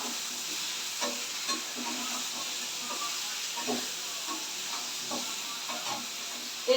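Food sizzles steadily as it is stirred and fried in a pan with oil and ground spices. Soft scrapes and clicks of the stirring break through a constant hiss, close up.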